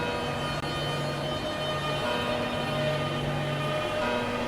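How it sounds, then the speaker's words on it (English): Steady rumble of an Electrostar electric train departing in Train Sim World 5, on the Southeastern High Speed route, with sustained low tonal hum, continuous and moderately loud, no voices. "No, the train's leaving."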